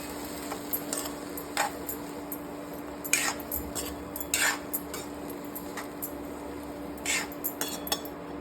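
Cluster bean (gavar) bhaji being mixed in a metal pan, a spoon clinking and scraping against the pan in irregular close strikes, several sharper knocks standing out over a faint steady hum.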